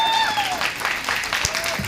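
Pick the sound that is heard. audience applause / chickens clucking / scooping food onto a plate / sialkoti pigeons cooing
audience applause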